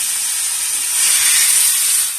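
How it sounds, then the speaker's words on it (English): A chunk of smoked pork butt heating in a frying pan, giving a steady, bright sizzling hiss that swells slightly midway, close and loud with no voices. "Heat up a chunk of this in the frying pan."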